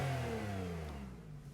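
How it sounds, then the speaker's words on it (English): Porsche 911 Carrera 3.0 turbo (991.2, 2018, PDK) running on its standard exhaust, a steady low engine drone that eases slightly in pitch, heard alone without talk. "right now this is a standard sound that's coming out of the exhaust system"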